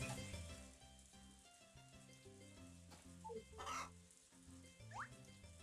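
A chicken in the farming game Harvest Moon: A Wonderful Life gives a few short clucks, set over the game's steady looping background music.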